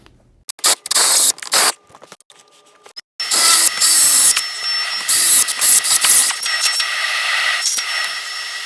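A power drill revs in short bursts, then bores steadily through wood with a 1.5-inch Forstner bit, a loud, grinding whine, pausing briefly between pushes.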